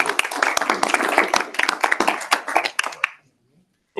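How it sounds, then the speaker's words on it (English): An audience at a community appeals board meeting applauds, with dense, irregular clapping for about three seconds that stops abruptly into silence. "So let's give him a round of applause."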